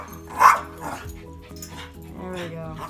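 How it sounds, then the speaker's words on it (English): Two pet dogs bark at a rat indoors, with a few sharp yaps and a whimpering whine sounding close by while a person talks over them. "My dogs are barking at something."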